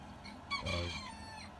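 A rooster crows once, a drawn-out cock-a-doodle-doo heard faintly at some distance over quiet background.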